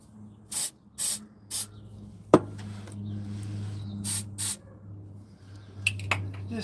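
Short hissing bursts of spray grease hit a bolt, three quick squirts followed by a sharp knock and then more spurts, close up over a low engine-like hum.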